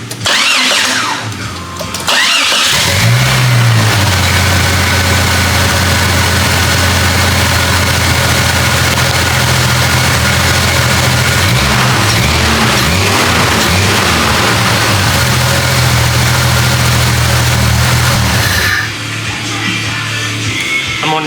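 A Jeep engine cranks and catches after new injectors are fitted, then runs at a loud, steady idle with slight fluctuations and a few blips of revving, close up, before cutting off near the end.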